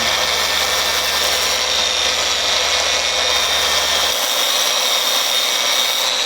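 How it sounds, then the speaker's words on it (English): Power sanding along the stiff tip edge of a Sailworks Retro 6.0m windsurfing sail being modified for windfoiling, a steady broadband abrasive whir that holds close and loud throughout, with a low hum dropping out near the end. "I'm going to sand down the edge and make it a little bit more lean."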